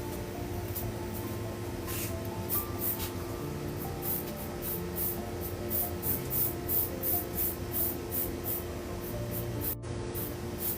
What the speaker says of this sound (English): the first thing I'm going to do is I'm going to spray myself because I am outside